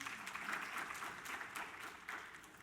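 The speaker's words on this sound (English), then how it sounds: "If you agree with that, clap one more time" An audience at a conference session on the future of work claps steadily, soft and distant, a continuous wash of applause throughout.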